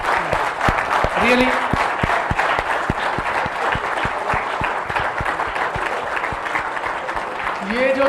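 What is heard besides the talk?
audience applause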